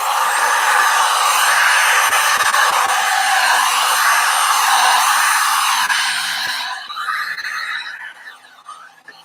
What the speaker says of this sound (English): I'll move the heat gun more towards pushing the blue over the white and vice versa.